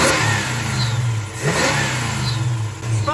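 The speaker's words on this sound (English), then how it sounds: "I've been noticing when revving up, there's kind of a high-pitched squealy noise. It's the alternator." The engine of a 1974 Dodge Dart Magnum revs up and settles in a few close swells, with a thin high-pitched squeal from a brand-new alternator riding over the engine's rumble.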